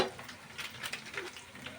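Spices with turmeric, chili and coriander powder sizzle and hiss steadily in a pan for prawn biryani, with faint stirring scrapes, close and fairly quiet.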